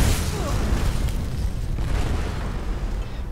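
Explosions in the video game Skyrim, inside a fortress: a dense, continuous booming rumble with a heavy low-end roar that barely lets up.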